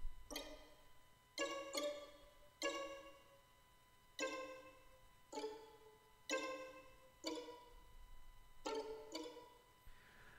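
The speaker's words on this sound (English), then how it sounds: "smacking the strings with the fiber side of your bow" Dry wooden taps of the bow stick strike violin strings, played col legno, in a loose, uneven pattern, each clicking hit ringing briefly with a hollow pitched tone, with no voices.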